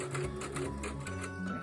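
A sewing machine stitches back tacks at the start of a seam on a fabric tissue holder, running in a steady close whir with short pitch shifts as the stitching reverses direction.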